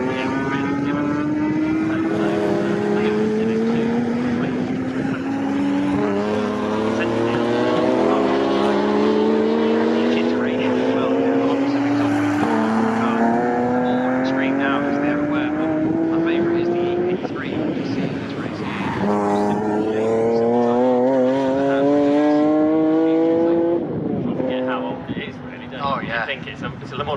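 Saloon race cars, including a Renault Clio, a Honda Civic and a BMW, race at Snetterton circuit, engines rising through gears in repeated climbing whines, loud and close, with people talking over the engine noise.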